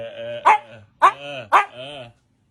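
A Siberian husky barking three times at even intervals, each bark loud and close, with a drawn-out, howl-like tone.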